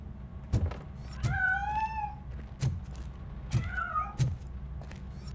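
A cat meows several times in the video game RoboCop Rogue City, clear rising and falling cries spaced over a few seconds, with soft thumps and low game ambience beneath.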